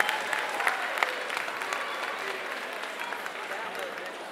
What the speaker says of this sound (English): I think that deserves the biggest round of applause so far tonight for our young artist Kazeem.